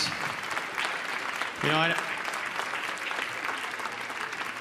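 A church congregation standing to clap for the Lord and for a guest at a Sunday service, with a burst of applause under a voice as he talks over it.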